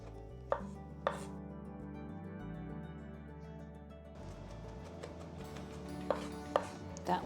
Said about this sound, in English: just chop up our onion and garlic